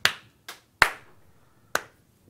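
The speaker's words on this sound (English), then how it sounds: "Slow clap." A few slow, separate claps ring out one at a time with uneven gaps, sharp and close, each decaying quickly into quiet.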